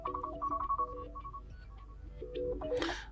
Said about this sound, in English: now from all this list we can change our ringtone